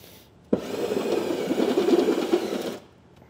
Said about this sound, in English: We're going to take a step bit and drill these holes out to 9/16 of an inch.